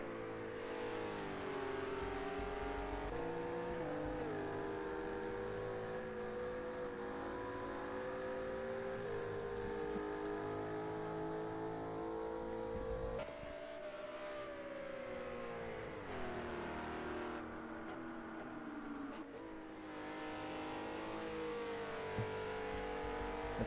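Race cars, including Ferraris, accelerating during a GT racing video game round at a Scottish GP, with a steady loud engine drone whose pitch climbs and falls through gear shifts for the whole stretch.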